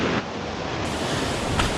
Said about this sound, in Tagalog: Malakas yung agos kasi umulan kahapon eh.